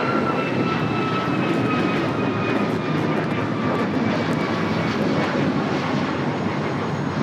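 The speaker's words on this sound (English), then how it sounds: "This is United Airlines 1539 taking off to Houston Intercontinental on the MAX 9" A United Airlines Boeing 737 MAX 9 takes off from Los Angeles International Airport bound for Houston. Its jet engines give a steady, loud, broadband roar that holds evenly throughout, with no voices.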